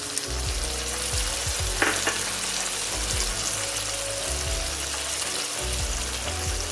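Chopped tomato frying with ginger, green chilli and garlic paste for egg and prawn biryani, a steady close sizzle with a few soft stirring knocks and scrapes, no voices.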